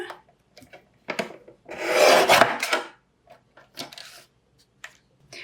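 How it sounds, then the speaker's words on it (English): Scissors cutting black cardstock into one-inch-wide strips, a sustained rasping slice in the middle surrounded by short dry snips and rustles of paper, close and fairly quiet. "Now I'm preparing strips of black cardstock. I cut them to 1 inch wide"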